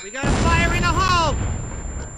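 A grenade explodes in the Vietnam War shooter Vietcong, a loud booming blast with a long rumbling tail that fades over about two seconds, while voices talk over it.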